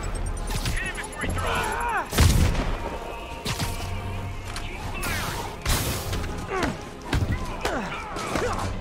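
Enemy soldiers fire guns in the Spider-Man video game, with heavy thumping shots and booms landing every second or two. Whooshing effects and clattering impacts mix in, and voices shout over the fighting.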